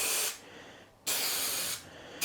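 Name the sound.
spraying adhesive glue from a can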